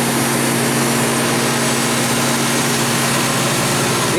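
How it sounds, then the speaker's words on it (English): A Riedel WKS 51 chiller compressor runs with a loud, steady mechanical drone and a constant low hum, unchanging and close for the whole stretch. "I'm sorry, not the fan, the compressor turned on."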